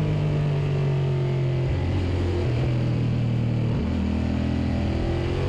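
Suzuki SV650 minitwins race motorcycle at Mallory Park rolling off the throttle into the hairpin under a red flag, a loud steady engine drone that drops in pitch as the power comes off and then settles lower.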